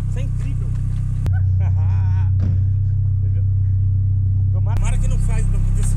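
Chevette car engine idling steadily right after a push start, a loud low rumble running throughout while someone talks over it.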